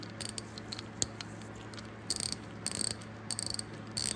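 A Snap-on ratchet on a socket clicks in quick bursts of rapid pawl ticks, close and crisp, with short pauses between strokes over a low steady hum.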